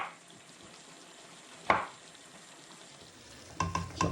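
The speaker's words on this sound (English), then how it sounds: "I'm just going to roughly chop the mushrooms and then chuck them straight into the wok." Mushrooms, roughly chopped, land in a hot wok and fry: a sharp burst of sizzling midway, then quieter crackle and stirring scrapes building again near the end, close and with no talking.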